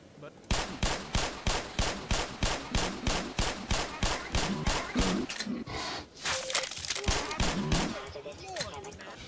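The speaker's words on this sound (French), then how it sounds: "Ah, le canon à gluon." Rapid, loud bursts of gluon gun fire in the video game Black Mesa in a steady rhythm, followed by more chaotic blasts and effects.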